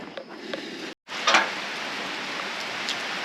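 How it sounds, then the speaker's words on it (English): Rain falling on an Australian beach: a steady, fairly loud hiss of drops that continues throughout, cut once by a brief silent gap. "the heavens have opened and it started raining"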